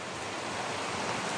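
Heavy rain pours steadily during a flood that is swallowing houses, a dense, even hiss with no breaks and no voices.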